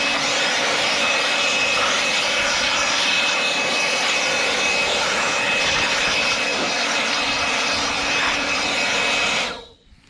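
Compressed air blasts steadily against an old, grimy fuel tank pulled from a vehicle, a loud continuous hiss that cuts off abruptly near the end.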